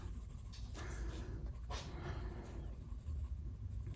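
A dog pants softly near the microphone, quick quiet breaths repeating under faint rustling, with no voices.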